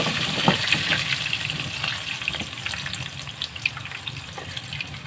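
Potatoes frying in hot oil in a home kitchen, a steady, dense crackling sizzle with sharp pops throughout, close and fairly loud, with no talking.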